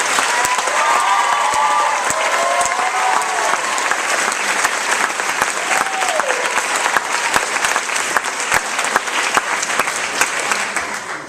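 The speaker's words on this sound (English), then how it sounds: "Let's have another round of applause for class." A large crowd at a high school graduation claps continuously and loudly, a dense, sustained wave of applause with a few voices calling out beneath it.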